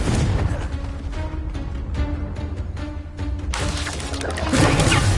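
Repeated Confringo blasting spells in Hogwarts Legacy, a string of booming bursts and pops against a dense, rumbling game soundscape, loud and continuous.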